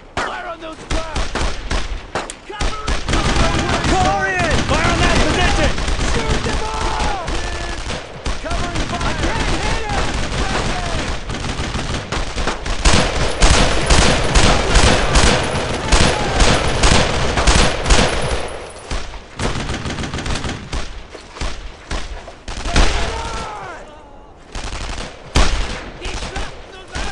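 Battlefield gunfire in the World War II shooter Brothers in Arms: Road to Hill 30, with dense bursts of rifle and machine-gun fire and distant booms, loud and sustained while soldiers shout orders over it.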